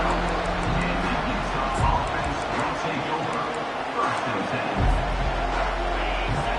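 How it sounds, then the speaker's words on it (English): Football stadium crowd roaring during a kickoff return, a dense continuous crowd noise holding loud throughout under a commentator's voice. "listen to the roar of this crowd"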